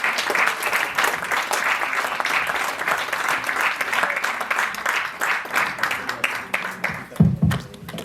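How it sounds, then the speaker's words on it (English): A large audience at a school event and open mic writers festival gives a big round of applause, dense continuous clapping filling the whole stretch before tapering off near the end. "may we please have a huge round of applause for this young panel"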